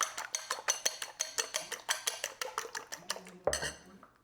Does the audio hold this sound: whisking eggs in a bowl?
yes